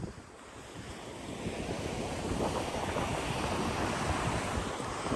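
Ocean waves wash steadily onto Cua Dai Beach in Vietnam, a broad, continuous surf roar that swells louder toward the end, mixed with some wind buffeting on the microphone.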